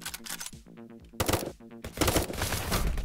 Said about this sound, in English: Burst assault rifle.